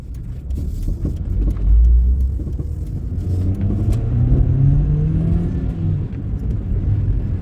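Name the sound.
car engine revving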